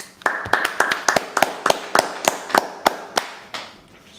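Rhythmic clapping from a church congregation at a Sabbath service, about a dozen sharp, evenly spaced claps at a steady beat, fairly close and clear with no talk over them.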